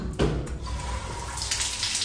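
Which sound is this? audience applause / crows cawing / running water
running water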